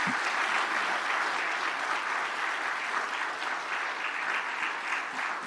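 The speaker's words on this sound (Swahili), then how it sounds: "Makofi mengi." A hall audience claps in sustained, dense applause at a formal Tanzanian ceremony where a commission led by Judge Chande hands its report to the President. The clapping holds steady and moderately distant throughout, with no speech.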